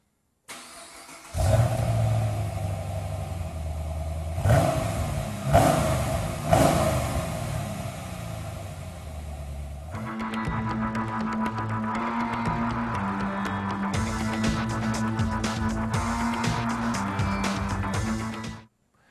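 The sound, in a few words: Chevy Camaro stock exhaust revving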